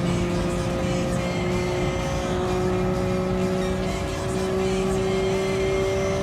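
Nissan R33 Skyline race car in Gran Turismo Sport, engine holding a steady loud drone at high revs with faint pitch shifts, steady and continuous throughout.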